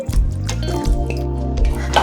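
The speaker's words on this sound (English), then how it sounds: "I'm just going to go ahead to add some water, just enough to cover the chicken." Water is poured over pieces of chicken in a cooking pot for Nigerian chicken stew. It makes a steady, close splashing and trickling sound for about two seconds, with no talking.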